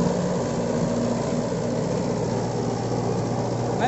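A Mahindra 575 XP Plus tractor drives a 7-foot rotavator through hard soil, its engine droning steadily and loudly with a constant low hum and no talk.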